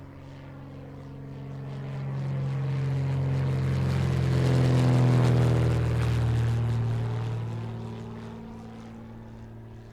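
A SPAD 13 World War I biplane flies past overhead, its engine drone swelling steadily as it approaches, peaking loud in the middle, then fading away with a falling pitch sweep.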